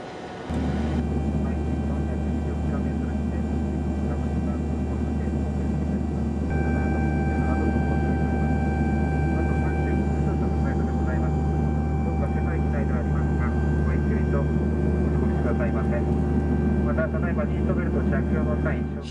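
Turboprop engines of a YS-11 airliner drone steadily and loudly throughout, a constant low hum with a high whine, heard from inside the aircraft.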